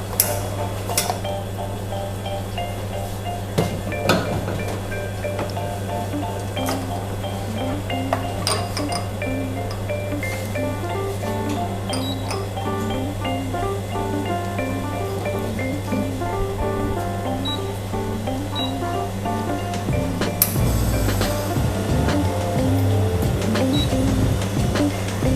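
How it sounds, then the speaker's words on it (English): An espresso machine pulls espresso shots with a steady, loud pump hum and a constant mechanical drone. Light clinks and ticks repeat over it, and the tone shifts near the end as the pull changes. "Let's start by pulling our espresso shots."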